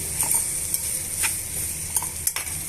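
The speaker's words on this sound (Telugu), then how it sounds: "ఇవన్నీ కూడా బాగా మిక్స్ చేసుకోవాలండి" Beetroot tossed with chili powder and salt is stirred in a pan, giving soft scraping strokes and a light steady sizzle, with a few sharper utensil taps near the end.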